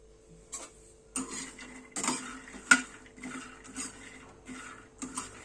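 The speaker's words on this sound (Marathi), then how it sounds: "मखाने फक्त गरम पॅनमध्ये भाजून घ्यायचे." Fox nuts dry-roasting in a hot pan without ghee, repeated scraping and light rattling clinks of a spatula against metal in uneven bursts, close and fairly quiet with no talking.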